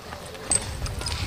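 Hooves of a horse clip-clopping on the ground during rein training for vaquejada, a few soft irregular thuds close by under steady outdoor background noise.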